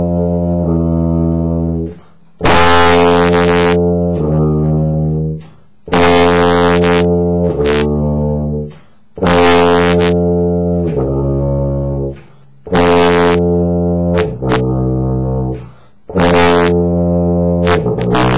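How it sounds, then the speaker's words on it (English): Tuba playing a series of sustained low notes, each note lowered by a tritone using the valves. The phrases are loud and close, with breaths and key clicks in the short gaps between them. "So the most that you can lower any given note on a tuba is by a tritone"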